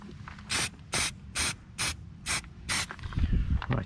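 Spray paint hisses onto a Peugeot 407 rear brake caliper in six short, evenly spaced bursts close by, followed by faint rattling and handling noises.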